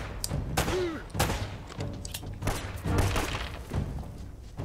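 Gunfire in the video game Uncharted: Drake's Fortune, repeated sharp shots and thudding bursts in irregular volleys, loud and close, with occasional talking in between.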